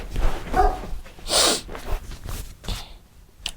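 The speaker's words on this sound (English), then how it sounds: "if my dog could stop barking for a minute" A dog gives a few short, sharp barks and snorts in quick bursts, close by, with brief quiet gaps between them.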